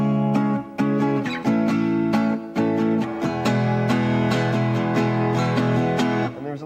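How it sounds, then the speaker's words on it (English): Electric or acoustic guitar strums a song using sixth-string-root barre chords, with rhythmic strummed chords and short choppy breaks between strokes, played alone with no voice. "If that was played with all 6th string root chords,"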